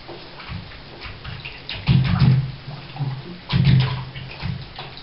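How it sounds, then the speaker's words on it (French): Tap water runs with mixed hot and cold into a basin while feet are rinsed under the faucet, a steady splashing flow with louder surges as the foot and hands move through the stream. "Je mets juste le pied en dessous du robinet avec un peu d'eau chaude et un peu d'eau froide."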